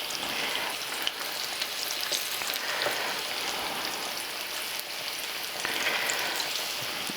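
Sweet ripe plantain slices frying in hot oil, a dense, continuous crackling sizzle close by with tiny pops throughout.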